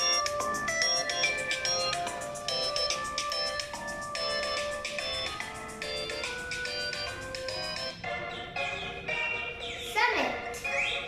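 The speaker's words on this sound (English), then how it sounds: "I'm going to change the ringtone. By the seaside." iPhone SE (2020) ringtone "By the Seaside" playing as a bright, repeating melodic chime pattern, loud and close, running steadily before cutting off near the end with a brief rustle.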